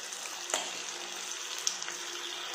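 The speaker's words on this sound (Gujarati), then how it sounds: "હવે આપણે જે શાક બનાવીને રાખ્યું છે તે અંદર નાખીશું." Cooked vegetables for pav bhaji go into masala frying in oil, giving a steady soft sizzle with a couple of brief knocks as they are added, fairly faint.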